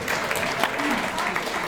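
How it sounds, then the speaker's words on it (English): Comedy club audience at a showcase keeps clapping in a steady, fairly close patter while a voice talks over it. "Keep clapping, goddammit."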